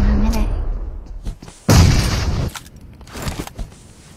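A grenade explodes in the video game PUBG Mobile: a loud, sudden burst that lingers for under a second, surrounded by scattered gunshots and talk from a player.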